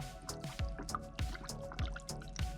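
Coolant gurgles and glugs in a regular rhythm in the cooling system of a 2010 Mazda 6, bubbles popping about twice a second at close range, with no speech.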